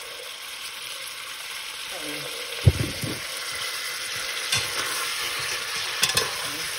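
Chicken wings in teriyaki and soy sauce fry with a steady, bright sizzle throughout, broken by a few louder pops and clatters of the wings being laid in the pan.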